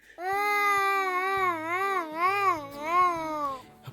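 A voice imitating a baby crying, producing long wavering wails that rise and fall for several seconds, close and fairly loud.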